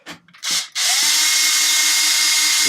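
A power drill drives a long bolt into an RC car chassis: a short stuttering burst and a couple of quick whirs, then a loud, sustained high-pitched whine as the bolt runs in, close to the microphone.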